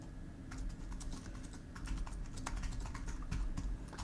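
Song lyrics typed on a computer keyboard produce a steady, close run of soft, uneven key clicks at low volume, with no talking.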